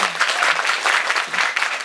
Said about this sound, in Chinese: 给自己掌声鼓励